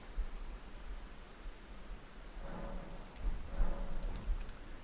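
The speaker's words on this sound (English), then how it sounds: "It is just raining." A steady, soft hiss of rain falls in Elden Ring, a faint, even wash of noise with occasional low rumbles swelling in the background.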